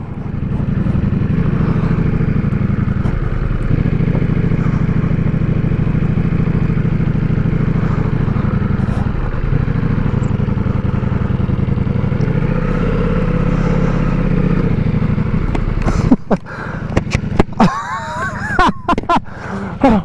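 A 2022 Ducati Multistrada V4 Pikes Peak motorcycle running, a loud, steady engine drone held for about fifteen seconds, then sharper clattering bursts near the end, with someone talking over it.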